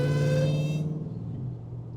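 A 1,000 hp Hellcat Charger engine on an E85 flex tune lets out a loud, steady high-pitched whine over a low drone, and the whine thins out after about a second.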